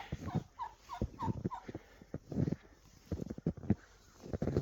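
Turkeys gobble in a snowy spring bee yard, several quick rattling calls in bursts at moderate distance, fairly faint against a quiet background with light wind.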